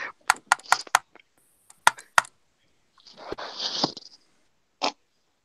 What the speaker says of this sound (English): I'm just typing on a keyboard.